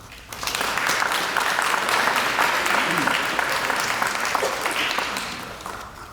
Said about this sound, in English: please join me in a round of applause in welcoming our first speaker, Dr. Ron Oler, Mayor of Richmond